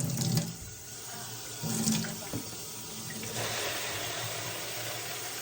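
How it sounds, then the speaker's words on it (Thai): Hot water runs from a kitchen tap into a container, a steady splashing rush that swells and shifts as the flow and filling change, fairly close and alone without talk. "เติมน้ำร้อนน้ำร้อนจากก๊อกน้ำค่ะ"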